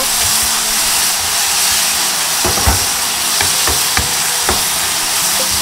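Eggplant stir-fried over high heat in seasoning sauce, a loud continuous sizzle and hiss with a few sharp spatula scrapes and clacks against the pan, no speech.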